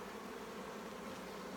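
A steady, faint buzzing of honeybees drifts around a brood frame as the last few bees are brushed off while two small hives are combined.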